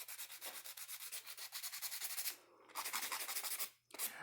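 Fine-grit buffer rubbing back and forth across dip-powder nails, a rapid rhythmic scratchy swish close up, stroke after stroke with two brief pauses.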